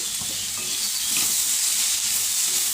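Vegetables for chowmein fry in a pan, giving a constant loud sizzle while a utensil stirs them with soft scraping knocks, close up and without talk.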